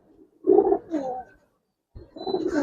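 Giribaz flying pigeons, a coloured racing-and-flying breed, give several soft low coos in short bursts, close by, with a brief pause of silence before another stretch of cooing.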